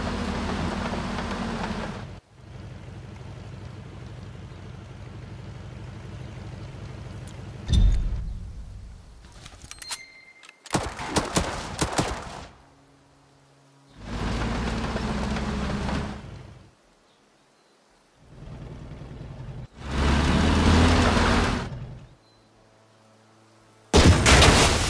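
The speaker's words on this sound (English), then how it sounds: "His Majesty's artillery is here." Artillery barrage in Headquarters: World War II, with heavy explosive bursts arriving in separated loud blocks between quieter gaps, some sharp cracking clusters and rumbling impacts, no talk.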